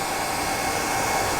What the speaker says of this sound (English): just putting the hairdryer on it